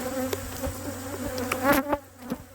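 Steady honeybee buzzing hums throughout at moderate volume around a hive in fall, with a few brief clicks and rustles, swelling slightly near the middle before easing off.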